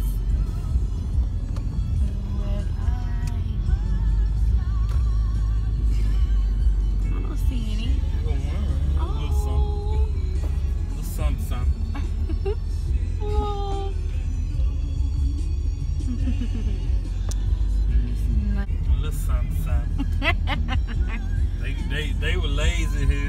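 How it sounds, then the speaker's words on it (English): A car driving at night on a Christmas Eve outing to see holiday lights, heard from inside as a steady low rumble, with people talking throughout over the engine and road noise. "We are in the car, headed to go look at some lights."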